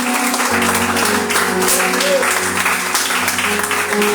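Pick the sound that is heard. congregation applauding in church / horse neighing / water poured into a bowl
congregation applauding in church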